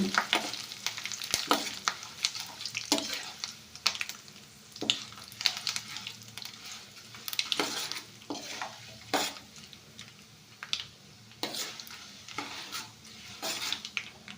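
Oil sizzles steadily as tempering seeds and curry leaves fry, with repeated scraping of a spoon stirring against the pan, close and busy throughout.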